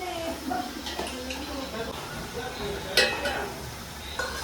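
Green onion and green garlic fry in a pan with a soft, continuous sizzle, broken by scraping stirs and an occasional sharp clink of a utensil; a voice talks over the cooking.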